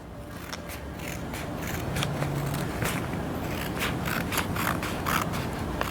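Scissors snipping through glued paper craft material in a steady run of close, crisp cuts with slight crackle and scrape, no voices.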